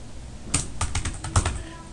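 Bursts of keyboard typing, clicking keys in quick irregular clusters at close range, with no voices.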